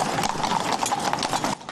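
Horse hooves clip-clop in a rapid, clattering run of close, crisp strikes. The sound is brief and fairly loud, with no voices over it.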